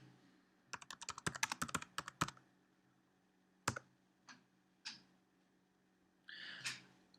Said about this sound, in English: we'll type the keywords used tire and hit enter